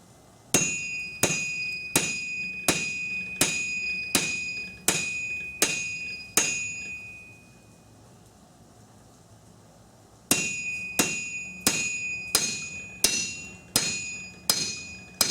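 Steady, evenly spaced hammer blows ring out on hot lawnmower blade steel being forged into a knife, each strike bright and metallic. The hammering stops for a few seconds, then resumes at the same pace.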